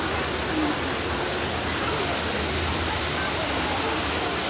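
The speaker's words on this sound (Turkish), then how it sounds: "Düden Şelalesi buradan akıyor." A steady, loud roar of falling water at Düden Waterfall in rainy weather fills the scene, broadband and unbroken, with no voices.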